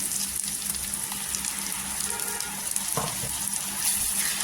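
Spices frying in oil sizzle steadily as tomato puree goes into the pan for a spicy vakti chutney, with a brief stir-like clatter around the middle.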